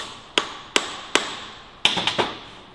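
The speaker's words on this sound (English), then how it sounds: "Just take your chisel in and kind of give it a couple taps" A steel chisel struck by a hammer while straightening the nuts on a Mazda manual transmission, giving seven sharp metallic taps: three evenly spaced, a short pause, then a quicker cluster of four, close and alone without talk.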